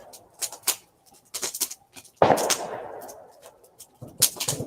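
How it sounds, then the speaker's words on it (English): Fireworks explode outside in a series of sharp, gunshot-like cracks and pops, some in quick bursts and one louder boom with a trailing rumble, heard at a moderate distance during a night at a firepit. "So all of those shots that you're hearing, friends, are fireworks."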